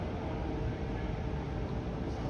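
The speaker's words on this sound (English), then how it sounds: "it's the sound of the train going downhill." A Toronto Line 2 Danforth subway train runs downhill between Donlands and Greenwood stations, a steady broadband rumble and rushing roar, continuous and even in level.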